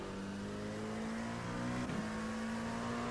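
Loud steady engine drone heard from inside a moving car, a constant low hum with a slight pitch shift midway as the engine revs change.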